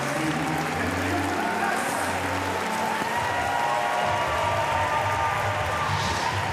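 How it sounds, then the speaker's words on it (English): A crowd in Paris applauds a para powerlifter at the women's up to 45 kg final, a steady, dense wash of clapping that holds without a break from start to finish. "Azzab, who takes the applause of the crowd here in Paris"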